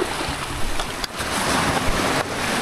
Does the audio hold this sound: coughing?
no